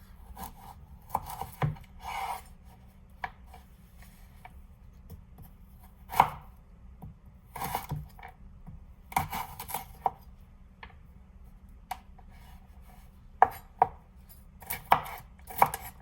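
A chef's knife chopping food on a board, with irregular bursts of sharp, close cuts separated by short pauses; no talking.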